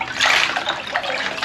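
Ice water is stirred and sloshed in a bucket before a cold shower, a close, loud swirling splash of water lasting a moment with no talk.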